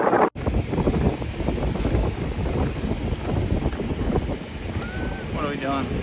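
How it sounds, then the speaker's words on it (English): Strong wind at a beach roars steadily into the microphone, with heavy buffeting gusts and surf-like rumble throughout and a brief dropout near the start. "Super windy today."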